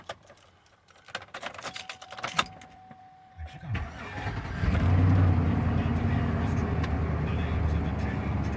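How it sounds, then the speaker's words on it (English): A 2004 Chevy Suburban engine cranks and catches after some clicks and rustling in the cabin, then settles into a steady, fairly loud idle with a low rumble. "let's start it up, see what we got on the voltage."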